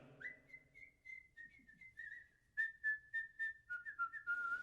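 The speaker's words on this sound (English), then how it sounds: "We whistle it with all our might, and oft you hear it day or night." A person whistles the Sig Ep fraternity tune, a clear melodic line of sustained notes that turns into a series of short, rhythmic repeated pips, fairly quiet and alone.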